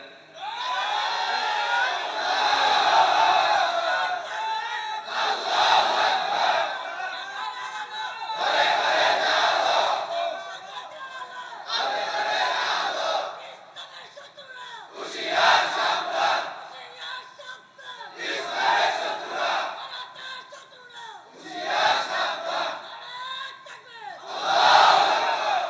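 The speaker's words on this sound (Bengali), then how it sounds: "তাকবীর একটু জোরে দেন তো, নারায়ে তাকবীর জোরে দেন।" A large crowd at an Islamic sermon gathering roars the takbir chant Nara-e-Takbir in powerful call-and-response bursts, about eight loud waves of shouting with short gaps between them.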